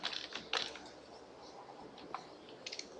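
Quiet typing on a computer keyboard while R commands are entered, an irregular run of soft, close key taps with a few firmer presses, heard alone.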